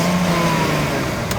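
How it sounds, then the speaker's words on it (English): A BMW E60 engine is running nearby, giving a steady mid-pitched hum and idle drone that stays loud and even throughout the short stretch. "you can see this is the engine is on"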